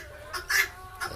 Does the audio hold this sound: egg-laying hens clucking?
yes